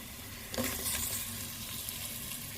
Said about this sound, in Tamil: இப்போ நான் வெங்காயத்தை போடுறேன்.